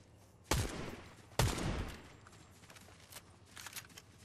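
Gunfire in the video game Fortnite: two sharp, loud shots about a second apart, each with a short decaying tail, then softer scattered distant shots near the end.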